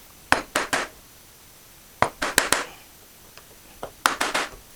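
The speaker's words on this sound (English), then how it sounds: "I think if you chop down as you go, you'll get more of it out and a cleaner finish." Sharp chisel strikes chopping out dovetail waste in a wooden board, arriving in three quick bursts of about three or four knocks each, close and crisp against a quiet background.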